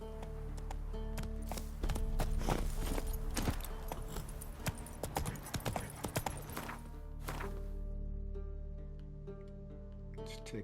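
Roach the horse walks in The Witcher 3, giving steady clip-clop hoofbeats over a low ambient game background, with a brief louder scuffle midway and no talk.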